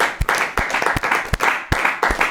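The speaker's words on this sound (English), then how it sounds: "Can we get a big round of applause?" Brief applause from a small studio audience at a rugby-themed talk show taping, with a few sharp, close handclaps punctuating a steady patter of clapping over about two seconds.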